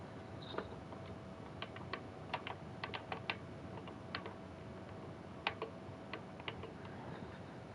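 Sparse, quiet keystrokes on a computer keyboard tap out in small irregular bursts, with short pauses between clusters of clicks and no voices.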